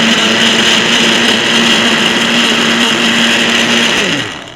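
A blender runs steadily at high speed, mixing Dutch baby batter made of everything but the butter, a loud continuous whir that winds down and stops near the end.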